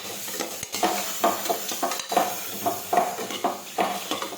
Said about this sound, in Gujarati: મીઠું નાખીશું, હવે ફરી આપણે સાતળી લઈશું.